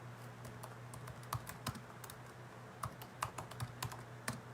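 Typing on a computer keyboard: a scattering of quiet, irregular key clicks, some in quick little bursts, heard close against a low steady hum with no talking.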